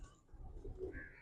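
Pigeons on a rooftop, a brief low cooing call heard fairly clearly over faint background noise.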